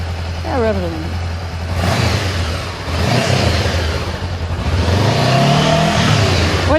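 Close, loud revving of a Honda CBR500R motorcycle engine, rising and falling in several throttle blips over a constant idle, with voices talking faintly underneath.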